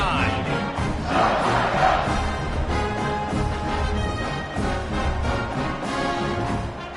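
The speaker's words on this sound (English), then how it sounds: "this crowd is buzzing after that last score" Stadium crowd at an American football game buzzes after a touchdown, a loud sustained roar of many voices with cheering swells, filling the whole stretch without pause.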